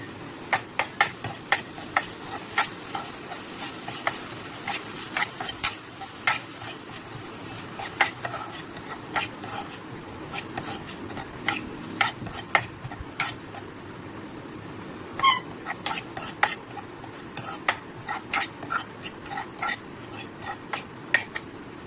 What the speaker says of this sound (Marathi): कांदा आणि लसूण आपण परतून घ्यायचे